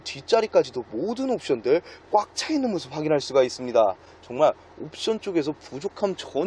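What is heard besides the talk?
No everyday noise stands out behind the speech.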